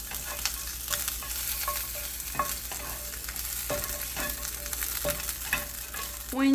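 Quarter of an onion and garlic frying in a pan until translucent, a continuous close sizzle broken by scraping stirs and clinks, with a louder burst at the end.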